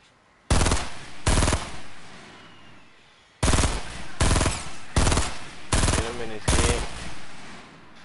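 Video game gunfire in short sharp bursts, roughly seven loud automatic volleys separated by brief pauses, close and dominant with a voice faintly underneath.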